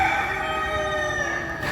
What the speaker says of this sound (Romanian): acești cocoși care cântă de zor